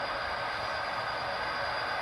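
A model train, a long oil tank-car consist on a Tehachapi-themed layout, rolls past in a steady, even broadband rumble with no breaks, close and moderately loud, with no voices.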